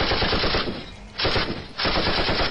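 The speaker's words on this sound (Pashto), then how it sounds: "یو څو هوایي ډزې وکړه" Rapid bursts of automatic gunfire shot into the air, loud and close, two sustained volleys separated by a brief pause, with no voices.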